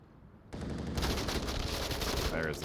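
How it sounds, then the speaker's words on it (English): Sustained automatic gunfire in the Onward VR shooter during a competitive match, starting abruptly after a quiet half second and continuing as a dense, loud, rapid rattle of shots with some overlapping bursts. "There's the shots coming through."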